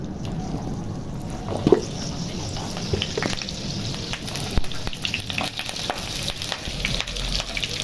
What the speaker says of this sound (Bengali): এবার তেল দিয়ে দিচ্ছি, আলুটা ভেজে নেব। আলুগুলো ভেজে নিই ভালো করে।